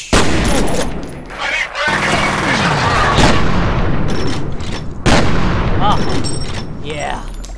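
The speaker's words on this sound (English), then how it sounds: "Beware of a glorious shotgun!" Loud shotgun blasts from the video game F.E.A.R., several booming shots with sharp onsets, around 0, 2, 3.2 and 5 seconds, followed by ringing decays amid game effects, with someone talking excitedly over the gunfire.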